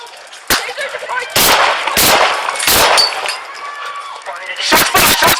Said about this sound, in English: Shots fired! Shots fired! Shots fired!